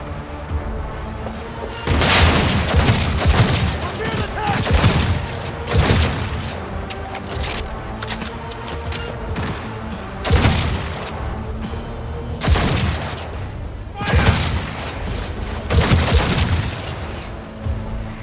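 Heavy gunfire and booming blasts in the video game Cyberpunk 2077, loud bursts recurring every few seconds over a dense, rumbling combat backdrop, with no talk.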